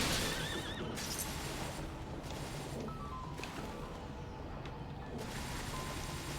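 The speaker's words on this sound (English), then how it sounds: "This is a lot of horses." Several horses in the video game Bloodstained: Ritual of the Night neigh and whinny repeatedly over a steady game soundscape, with faint hoof clops mixed in.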